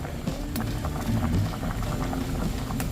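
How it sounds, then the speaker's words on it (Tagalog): Liquid bubbling at a steady rolling boil in a pot, close and continuous, with small pops and gurgles throughout. "kuluan na po ulit"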